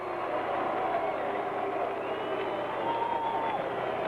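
A large ballpark crowd greets Reggie Jackson at a Royals–Orioles game with a sustained wash of mixed cheers and boos, steady and moderately loud, while a broadcaster's voice runs over it.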